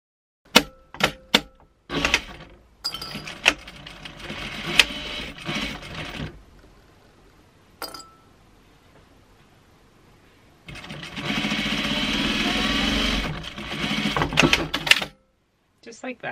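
A domestic sewing machine stitches a quarter inch seam on fabric for a fitted small animal den cover, first in choppy short runs and then one sustained burst near the end, close-up, with brief handling clicks in between.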